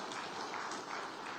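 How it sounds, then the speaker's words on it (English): A brief burst of audience applause at a business summit in Bengaluru, a soft, dense patter of clapping heard faintly for just over a second. "huge round of applause to kick off the proceedings"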